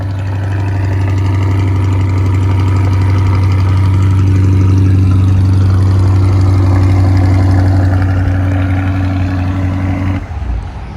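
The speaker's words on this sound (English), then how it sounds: "so we're going to listen to the exhaust a little bit." A mid-engine Chevrolet Corvette C8's exhaust rumbles loudly at idle, a deep steady drone close by that cuts off near the end.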